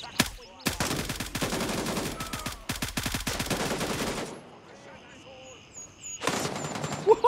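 Bursts of rapid automatic gunfire in Gray Zone Warfare crackle loudly in several long volleys, separated by short pauses and ending with a final burst.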